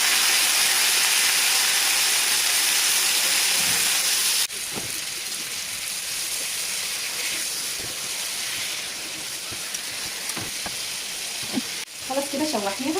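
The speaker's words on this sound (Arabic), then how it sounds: "حطيت مكعب من الزبده، حته صغيره من الثوم، وهقلبها كويس في السمنه البلدي، وهنزل بالطماطم" Tomatoes frying in butter, garlic and ghee: a loud, bright hiss at first, then a lower, steady sizzle punctuated by close stirring scrapes and clatters.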